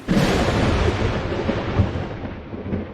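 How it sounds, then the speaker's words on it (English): A thunderstorm in the video game Life is Strange: Double Exposure, with a loud, sustained low rumble of thunder that swells and rolls continuously, slowly fading toward the end. "Are we going into the storm?"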